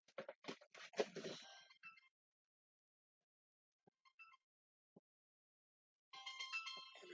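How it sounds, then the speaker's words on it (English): A phone ringtone plays a short melodic burst, falls silent with a few faint blips, then rings again a few seconds later, fairly quiet. "My boyfriend's phone is ringing."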